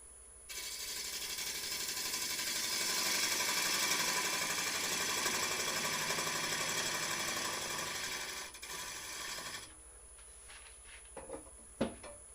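A wood lathe spins while a HollowPro hollowing tool takes a cut inside the turned piece. A steady, soft mechanical whir lasts about nine seconds, then quietens, with a few light clicks at the end.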